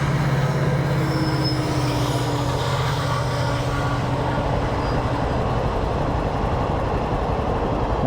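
A steady rumbling roar of a train passing close by at a railway level crossing, with low droning hum and continuous rattling noise throughout, no voices.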